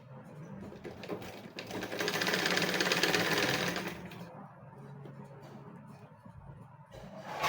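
A sewing machine stitches an aso-oke fabric hair piece in one rapid, continuous whirring burst of about two seconds, then stops, leaving quiet handling noises nearby.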